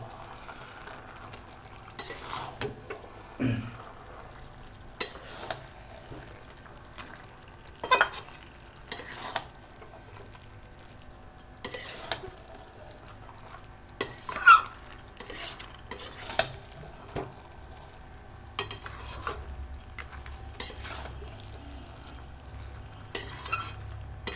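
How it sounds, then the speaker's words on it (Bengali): Intermittent spatula scrapes and clinks in a pan as cabbage curry with rohu fish head is stirred slowly, separated by quiet gaps over a low frying hiss. "এখন ধীরে সুস্থে নাড়াচাড়া দেবে।"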